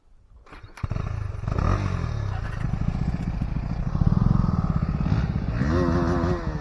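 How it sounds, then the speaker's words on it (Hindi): A KTM Duke 250 motorcycle starts up suddenly and rides on with a loud, close engine roar, rising and falling as it revs, with clattering bursts and a wind-buffeted rumble throughout. "तो कथर भाई का बाइक चला रहे हैं।"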